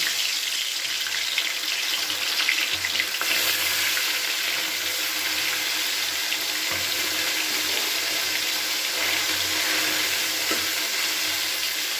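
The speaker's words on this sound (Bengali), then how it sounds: "এবার আমি মাছগুলো ভেজে নিচ্ছি" Small amudi fish fry in hot oil with a dense, even sizzle and crackle that stays loud and steady from start to finish, with no talking.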